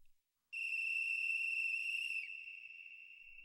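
A single sustained whistle tone, clear and pure, begins after a brief silence, holds steady for about three seconds, then slightly dips and fades in strength near the end against an otherwise silent background.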